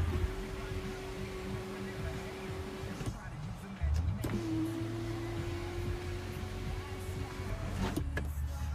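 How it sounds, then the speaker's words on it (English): Power tilt panoramic sunroof and sunshade of a 2015 BMW X3 xDrive35i xLine running inside the cabin, a steady electric motor whine that stops near the three-second mark and starts again, with a soft thunk between runs. "large power tilt, panoramic sunroof with sunshade, controlled right here"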